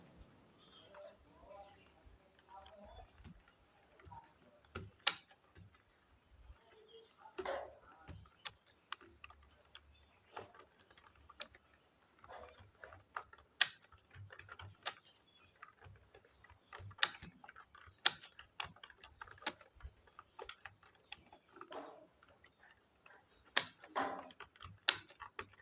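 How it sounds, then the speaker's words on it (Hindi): Light taps of typing on a mobile phone's on-screen keyboard, scattered irregular clicks at close range over a faint background hum, quiet overall. "जो भी वर्ड दिया गया है उसे टाइप करना है"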